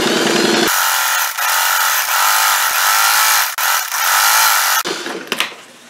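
A sewing machine runs a steady quarter-inch seam down a quilt-as-you-go tote bag strap with batting tucked in. The motor hum is close and continuous, with a brief start near the beginning and a stop near the end.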